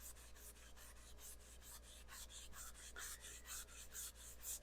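Finish is rubbed by hand into a turned plywood lighthouse on a stopped lathe after 800 grit sanding, giving a soft, steady rasping swish in regular quick strokes, quiet and close, with no talking.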